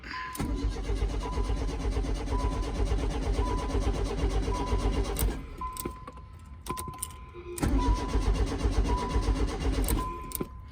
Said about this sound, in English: I could at least try to start it